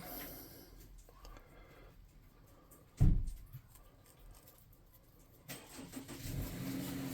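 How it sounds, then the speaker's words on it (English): A car drives past outside, heard as a soft, distant engine rumble with one brief louder swell near the middle, over a quiet background. "Oh, somebody's driving somewhere."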